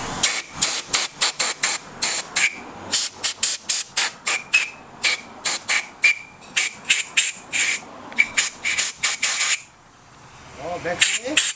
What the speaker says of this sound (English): if you have a compressor, spray it out.